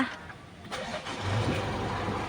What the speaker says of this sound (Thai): เดี๋ยวเหยียบเบรกกดปุ่ม start นิดนึงนะคะ